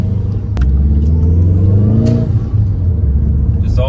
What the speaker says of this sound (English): Just all the good boost noises, all the good torque at low end.